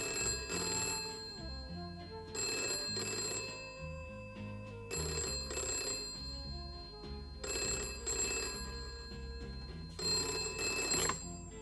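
A landline telephone bell rings late at night in repeated double bursts, five rings with short gaps between, fairly quiet and heard alone.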